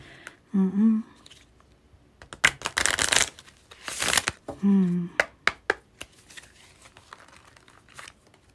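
Playing cards are shuffled and drawn up close, crisp bursts of flicking, riffling and slapping with quiet pauses between, plus a couple of brief vocal tones early on.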